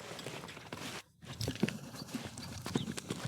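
A horse walks in an arena, hooves clip-clopping in an irregular series of soft, close impacts after a brief quiet gap.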